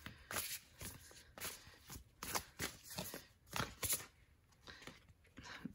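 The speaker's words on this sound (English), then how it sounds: "So let's pull another card." Tarot cards are shuffled and pulled by hand, a series of soft quick riffling and sliding bursts at an uneven rhythm, close and quiet with no talk.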